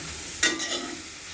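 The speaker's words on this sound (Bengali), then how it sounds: "এই যে দিয়ে দিলাম সামান্য অল্প একটু সয়াবিন তেল। এবার ভালোভাবে নেড়ে চেড়ে নেব।" Fresh pond-side greens stirred in a pan with a little soybean oil, a brief scrape followed by soft sizzling, close and quiet.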